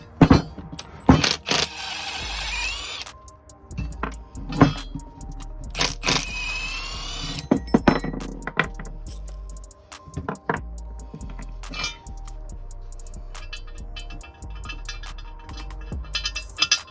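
A short-runner inlet manifold is test fitted onto an R32 engine: scattered metallic clinks, knocks and clatters of parts and tools in a quiet workshop, irregular and close, with bursts of louder handling noise and no speech.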